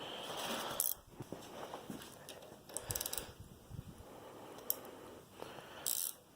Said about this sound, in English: I'm going to grab a wrench to actually tighten it further.